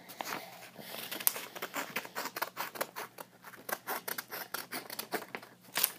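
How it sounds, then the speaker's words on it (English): Scissors snip paper in a quick, steady series of crisp cuts, close and fairly loud, with light paper rustling between snips. "I am going to use scissors because I may rip my whole thing."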